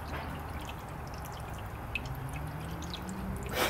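Coolant drains steadily from a Subaru car radiator during repair work, a continuous close pouring and trickling of liquid with faint drips, running unbroken and fairly loud, with no one speaking.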